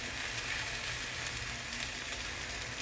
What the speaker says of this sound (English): So you can just fry them until it's brown, slightly brown